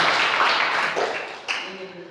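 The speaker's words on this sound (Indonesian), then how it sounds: "Tepuk tangan untuk kita semua, tepuk tangan untuk kesuksesan kita semua" Classroom students clap their hands in a short burst of applause that quickly fades, leaving a few voices at the end.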